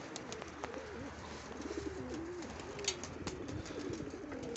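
Pigeons coo steadily in low, rolling phrases, several birds overlapping against a constant background hiss.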